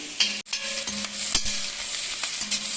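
Sliced onion sautéing in a pan, a continuous close sizzle with light crackling and a few stirring clicks, no talk.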